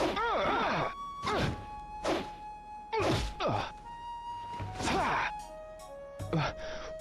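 Video game fistfight hits in Shenmue 2, a string of sharp thwacks and thuds in several bursts with grunting, groaning vocal effects from the fighters.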